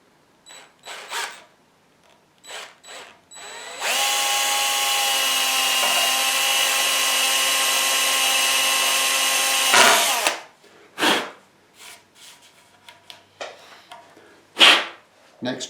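A power drill boring a 3.5 mm hole through a guitar body runs steadily for about six seconds, a loud continuous whine, with brief handling knocks and clatter before and after.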